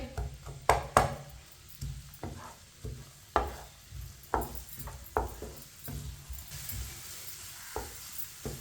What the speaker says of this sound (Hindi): प्याज को मिक्स कर लेंगे।